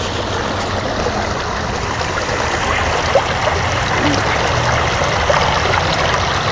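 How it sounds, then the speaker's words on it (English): Babbling brook in a local park, a steady close wash of trickling, gurgling water running throughout with a couple of faint splashes, outdoor ambience and no talking. "See that babbling brook right there?"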